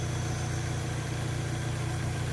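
A Fiat Fiorino 1.3 8v Fire engine idles with a steady, even low hum and light vibration, running alone without talk.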